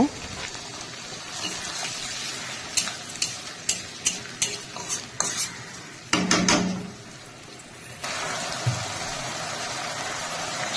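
Chicken feet stirred with a spatula through spices, tomato and a little water in a pan, giving a run of sharp scraping clicks over a low sizzle, then a louder burst of frying and a steady hiss.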